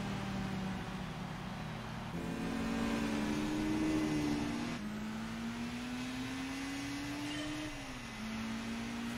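A race car in Gran Turismo 4 runs on track, its engine a steady whining drone that climbs in pitch through the gears with a few shifts. The sound is fairly quiet and continuous, with no talking.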